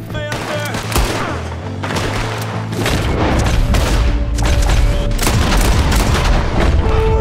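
Gunfire and booming blasts from the Western video game Red Dead Redemption 2, a loud, dense barrage of shots and thuds that grows heavier partway through and continues steadily to the end.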